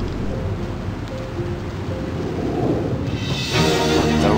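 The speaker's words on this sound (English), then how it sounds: "The rain pelted down as Thomas battled his way through the blistering weather." Heavy rain in a storm, a steady hiss that swells louder near the end with a low rumble of thunder, no voices.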